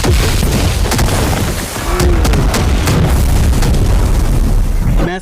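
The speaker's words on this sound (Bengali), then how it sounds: "বম ব্লাস্ট করছে।" Bomb blast explosions in an action movie teaser, heard as dense, continuous booming roars with deep rumble that fill the whole stretch at high volume, and a voice murmuring underneath.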